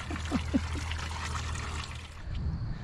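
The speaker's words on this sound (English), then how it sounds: "You can die from drinking from the water hose." Water runs from a new garden hose on a farm, a soft close trickle and pour that carries on steadily for a few seconds.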